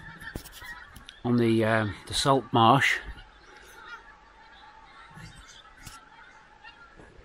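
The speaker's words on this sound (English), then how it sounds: "I think that's the pink-footed goose off for an evening feed onto the salt marshes" Pink-footed geese honk in flight over a salt marsh at evening, a short burst of close, loud calls with a voice speaking over them before a quieter, open-air background returns.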